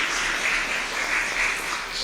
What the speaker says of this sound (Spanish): Un aplauso para Adrián por la dramatización.